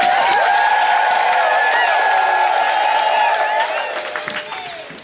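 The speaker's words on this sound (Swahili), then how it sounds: "Hebu tuwapongeze kwa makofi" A church congregation applauds newly ordained priests, with loud sustained clapping and cheering from a large crowd that fades out toward the end.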